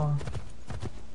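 Horse hooves clip-clop steadily at a gallop in Assassin's Creed 3 gameplay, loud and near, with a brief tone at the start and a voice faintly under the rhythm.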